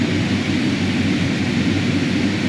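Carenado King Air B200 turboprop engines in Microsoft Flight Simulator 2020 spool up to taxi power, a steady loud broadband roar with a low rumbling drone, unbroken and close throughout.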